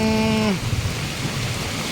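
Steady heavy rain roars throughout, a dense broadband wash; a brief tonal hum fades out in the first half-second.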